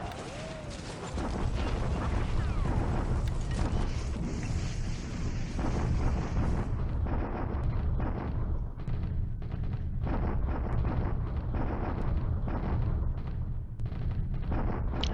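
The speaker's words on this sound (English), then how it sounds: "The Japanese bombard at Clark." Japanese bombardment of Clark Field in a World War II strategy video game set in January 1942, a sustained roar of explosions and artillery fire rumbling steadily for the whole stretch without pause.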